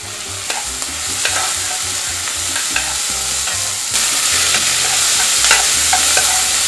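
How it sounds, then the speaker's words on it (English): Three garlic cloves fry in a pan for a Cuban arroz con salchicha, a steady close sizzle broken by repeated scraping strokes of a utensil stirring them, with no voices. "now we're gonna add the 3 cloves of garlic"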